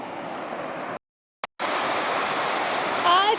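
Rapids on Hood River, Oregon make a broad, steady rush of white water heard from close by. A short gap breaks the sound partway through.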